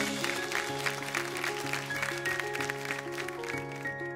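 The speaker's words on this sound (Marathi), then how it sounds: "एकदा जोरदार टाळ्या होऊन जाऊ देत." A crowd claps steadily, welcoming women of a police Nirbhaya squad at a Marathi television celebration, with the applause blending into loud, sustained music for the whole stretch.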